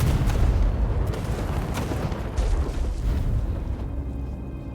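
A tower's explosive attack in a Warhammer strategy game, Seducers of Slaanesh, booming as a dense, continuous rumble of blasts and impacts that stays loud throughout, with no talk.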